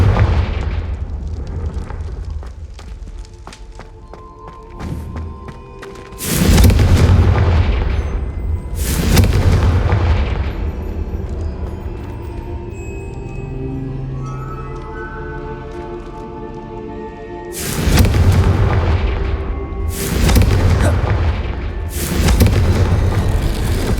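Blasting spell explosions in the Hogwarts Legacy video game, several deep booming blasts in clusters with rumbling combat noise between them, loud and close.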